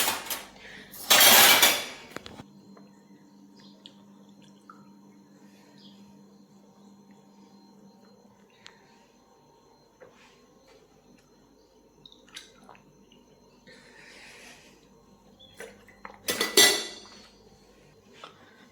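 Dishes and utensils clatter as a home kitchen is tidied, two loud bursts of clinking and banging at start and end with sparse small knocks and clinks in between under a low steady hum.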